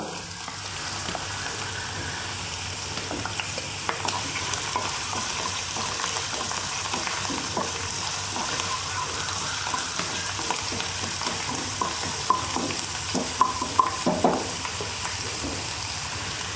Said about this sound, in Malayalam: കുറച്ച് എണ്ണ ഒഴിച്ചിട്ടുണ്ട് അപ്പോൾ നമുക്ക് അതിലേക്ക് ഇഞ്ചി ഇട്ട് കൊടുക്കാം